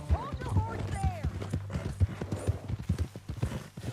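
Horse hooves clip-clop steadily beneath overlapping dialogue in the video game Red Dead Redemption 2, a regular rhythmic patter running through the whole stretch while people talk.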